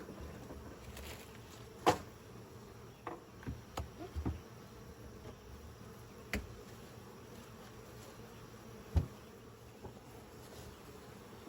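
Honey bees buzz steadily around an opened beehive during an evening inspection, a soft continuous hum with a few sharp clicks and knocks from handling the hive, no voices.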